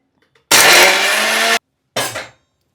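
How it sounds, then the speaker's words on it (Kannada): A kitchen mixer grinder churns coconut masala with coriander leaves and stems for brinjal curry, giving a loud whirring burst of about a second, a short pause, then a briefer pulse that winds down. "ಒಂದಿಷ್ಟು ಕೊತ್ತಂಬರಿ ಸೊಪ್ಪು ಹಾಕಿ ರುಬ್ಬಾಕಿ."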